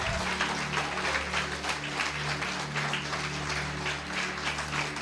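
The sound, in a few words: congregation applause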